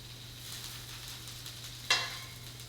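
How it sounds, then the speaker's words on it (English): Ingredients sizzle softly in a heating pan for a breakfast taco in a tortilla, a steady low frying hiss with one sharper crackle near the end, heard alone. "Over here we have our pan that is heating up"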